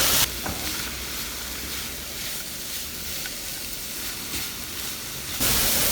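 Peanuts fry in a pan of hot oil while being stirred, giving a soft, even sizzle with faint scraping, steady and fairly quiet throughout.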